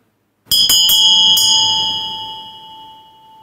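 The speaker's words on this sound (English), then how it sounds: "are you experiencing the sound when I ring the bell?" A meditation bell rings out loud and clear, struck in a quick cluster of about four strokes, its bright tones blending into one long shimmering ring that slowly fades.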